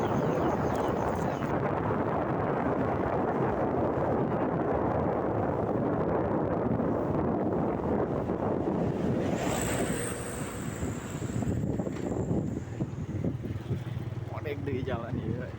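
Strong wind buffets the microphone steadily while riding a motorbike on a road near the coast at Pameungpeuk, Garut Selatan, a loud continuous roar with rumble that eases slightly near the end.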